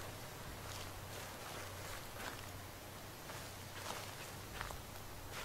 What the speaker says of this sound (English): I swear I hear other footsteps.